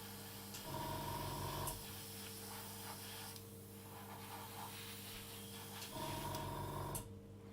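An airbrush sprays paint onto a scale model, a steady close hiss with bursts that come and go, joined by a faint hum and no voices.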